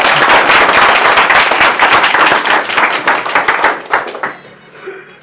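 An audience of students at Orane International, Chandigarh, claps for a girl: dense, loud applause from many hands, sustained for about four seconds before quickly thinning out and fading.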